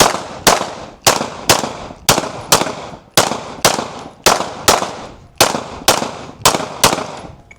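Pistol fired in doubles at a shooting range, sharp loud shots arriving in quick pairs with short pauses between, around a dozen reports in all, close and echoing.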